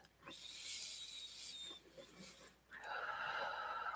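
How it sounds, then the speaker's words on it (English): One slow, deep breath is drawn in and let out during a guided meditation, a soft airy hiss close to the listener that swells again near the end, without talk. "Take a deep breath."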